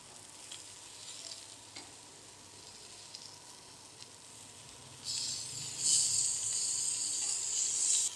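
Tandoori chicken tikka sizzles in a pan over a low flame with a quiet, steady frying hiss that grows louder and brighter partway through, close and alone without talk.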